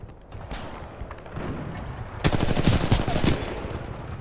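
Rapid automatic gunfire in the video game Titanfall 2 rattles out in a dense, loud burst over a rumbling battle background, preceded by scattered distant shots.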